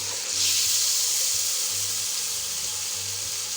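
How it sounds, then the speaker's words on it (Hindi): Onions sizzling and frying in a pan as the base for an aloo palak sabzi of spinach and potatoes. The frying hiss is steady and close, with a low hum underneath and no talking. "अब इसको हम अच्छी तरीके से करेंगे फ्राई 2 से 3 मिनट के लिए"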